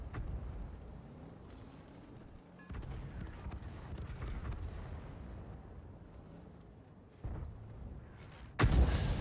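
An artillery tank fires in the video game World of Tanks; the muffled rumble of battle is broken by a few sharp booming shots, the loudest near the end.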